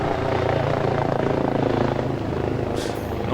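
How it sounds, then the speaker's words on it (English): Steady low rotor drone of a helicopter coming in for an airdrop in a video game, loud and continuous with no voices over it. "that is the chopper coming in for the airdrop"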